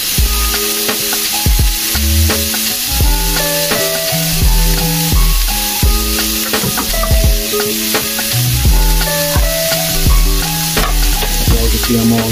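Steak strips for a Philly steak sub frying and being stirred on a griddle, a steady loud sizzle throughout with repeated scraping and clacking of a spatula, no talk.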